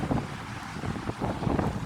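Gusty wind at Wollongong Beach rumbles across the microphone in a steady, close roar, with no talking heard.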